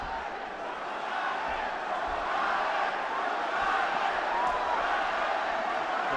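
A boxing arena crowd at a bout between Roman Gonzalez and Brian Viloria keeps up a steady, loud roar that swells into a sustained chant of a fighter's name, continuous throughout with no clear talk on top.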